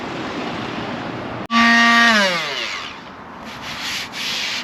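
Loud, continuous sanding of filler on a vintage motorhome close by, a rough hissing rub with a whining tool pitch that drops off, then steady scraping strokes continue.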